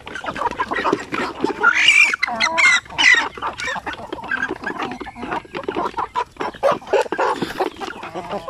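Farm chickens sold by the kilo cluck and squawk repeatedly at close range, a busy, uneven flock chorus with some louder calls standing out, with faint voices now and then.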